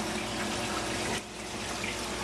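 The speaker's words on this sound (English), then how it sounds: "Skimmer's doing a good job." A protein skimmer runs in an aquarium sump on a 200-gallon coral system, making a continuous rushing, bubbling water noise with a brief dip midway.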